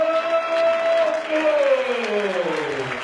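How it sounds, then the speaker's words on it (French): Crowd applause and cheering ring out at a kickboxing world championship event as Portuguese fighter Adelino Boa Morte is introduced, a broad steady roar of clapping under an amplified announcer's voice. "Mesdames et messieurs, sous applaudissements, le portugais Adelino"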